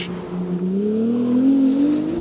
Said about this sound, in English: you can hear the kind of whistle of the turbos together